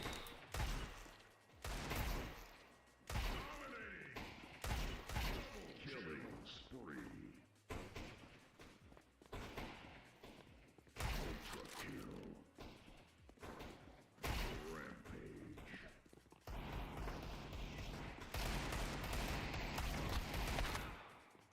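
Desert Eagle shots ring out in PUBG as sharp, punchy single reports spaced through the scene, mixed in under frequent chatter from players talking.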